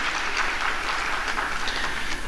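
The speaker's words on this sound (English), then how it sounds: "Let's give them a round of applause, please, and welcome them here this evening" Steady applause from a crowd at an evening music school concert, a dense wash of clapping that holds at an even level throughout.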